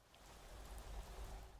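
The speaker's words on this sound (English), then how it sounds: "In darkness, heavy rain falls over jumbles of gravestones." Heavy rain pours steadily over a dark graveyard scene in a video game trailer, a dense, even hiss with a low rumble underneath and no voices.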